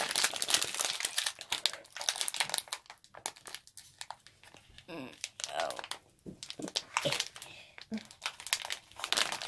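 Crinkly plastic foil of a Kinder egg wrapper being crumpled and torn in bursts, close up, with a person talking in between.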